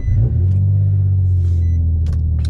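Nissan G35 with a Tomei exhaust, Manzo test pipes and a tune, rumbling loudly and close with a deep steady low drone inside the car.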